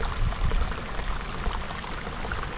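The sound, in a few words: hot spring water flowing into a pool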